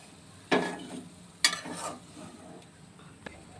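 Papaya koftas fry in a pan as two sharp bursts of sizzling and stirring rise and fade over a low, steady background hiss, with no voices.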